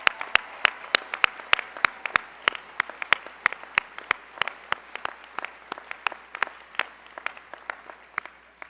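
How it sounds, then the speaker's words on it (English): At a medical school white coat ceremony, an audience gives a long, somewhat thin round of applause, with sharp, distinct claps from a few nearby hands over a soft bed of more distant clapping. "please join me in applauding the newest members of the"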